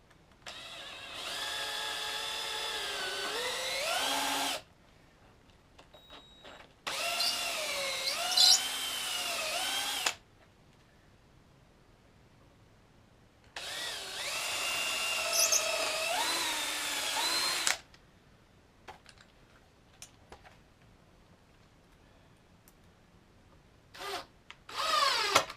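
A power drill drives down through the corner of a 2x4 while sawhorses are built: three long whining bursts whose pitch rises and falls as the motor loads up, separated by quiet gaps with faint handling noises, and no talking.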